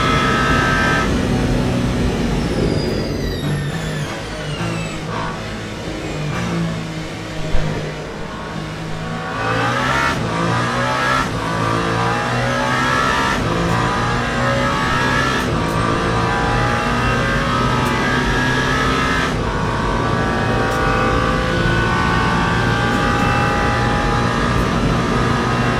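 A United Autosports LMP2 prototype from the Le Mans Ultimate game at the 24 Hours of Le Mans screams through repeated throttle sweeps and upshifts, rising and falling loudly without pause.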